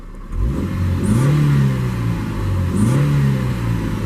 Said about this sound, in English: You can hear the little 4AGE.